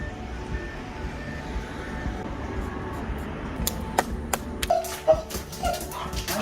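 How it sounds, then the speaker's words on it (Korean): A pet dog at home in Ilsan grows excited and barks in a short, uneven run of sharp yaps near the end, set against steady low background noise. "외부인이나 벨소리 하면 반려견이 이렇게 짖고 흥분합니까?"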